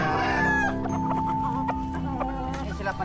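Chickens cluck and squawk close by in short bursts over a steady low hum, with scattered calls repeating throughout, as they feed.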